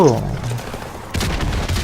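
Gunfire in Call of Duty Modern Warfare Remastered, a short loud burst of shots starting suddenly near the end after a quieter stretch, with a voice speaking over the game sound.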